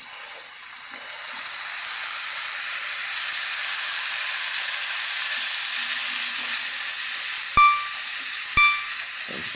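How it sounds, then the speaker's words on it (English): Smashburger patty frying in a buttered pan, a loud, steady sizzle and hiss filling the whole stretch, with two sharp metallic clinks near the end. "I'm going to go ahead and drop another burger while the other one's finishing up."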